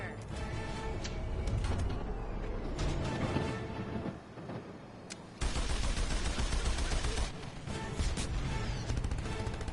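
Rapid bursts of gunfire from a ship-mounted gun in a frontier pirate attack, dense and loud with mechanical clatter and crashing, nearly continuous across the stretch with a brief lull midway.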